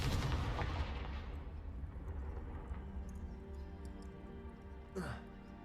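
A Confringo explosion spell in the Hogwarts Legacy video game, a loud booming blast at the start that decays into a rumbling tail, with a faint sweeping whoosh near the end.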